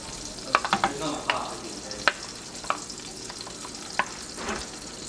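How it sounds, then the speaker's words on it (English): Garlic frying in melted butter in a pan, with a steady soft sizzle broken by scattered utensil scrapes and clicks, a quick cluster early and then sparser strokes. "we're melting our butter. Next we'll be adding our garlic."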